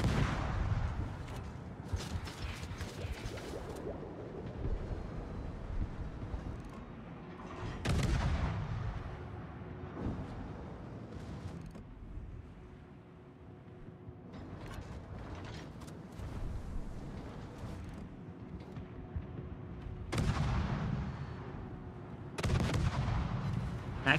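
Naval gunfire in World of Warships: repeated heavy artillery blasts and shell impacts on a ship, booming loudly in bursts with rumbling explosions between, continuous dense battle noise throughout.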